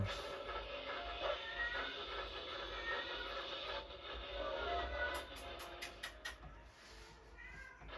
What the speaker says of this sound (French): il y a un chat qui miaule parce qu'elle veut jouer